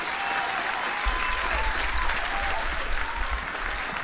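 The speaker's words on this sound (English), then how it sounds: "Keep clapping, bro. Keep clapping." Audience applause at the 2021 COG Awards show: a dense, steady roar of many hands clapping fills the whole stretch at strong volume, with a low rumble beneath from about one second on.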